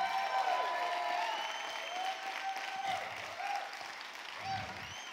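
A keynote conference audience claps loudly, a steady dense wash of applause and crowd noise filling the hall for about five seconds with some voices mixed in.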